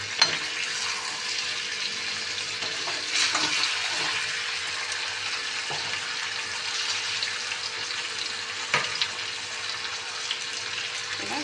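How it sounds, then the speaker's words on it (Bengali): Eggplant pieces fry in hot oil in a pan, giving a steady, even sizzle with a few sharp stirring clicks and scrapes, close and moderately loud with no talk. "এবার বেগুনটা দিয়ে দেবো,"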